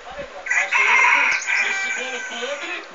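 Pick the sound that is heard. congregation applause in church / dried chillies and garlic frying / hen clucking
hen clucking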